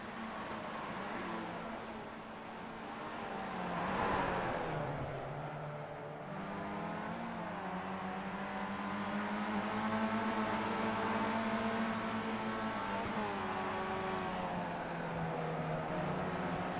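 Race cars at VIR in a racing video game whine past with rising and falling engine tones, several cars layered together in a steady, moderately loud drone that shifts pitch as they accelerate and brake.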